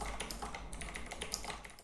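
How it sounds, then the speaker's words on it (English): Fast typing on a mechanical keyboard with built-in JBL speakers, a quick run of crisp clacky keystrokes, close but fairly quiet, with nobody speaking. "You get that typewriter type of feeling."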